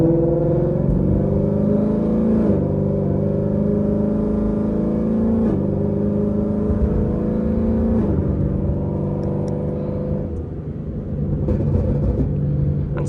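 An automatic car driven with paddle shifters, engine heard from inside as it pulls away, its steady hum rising in pitch through each gear before dropping at the shifts.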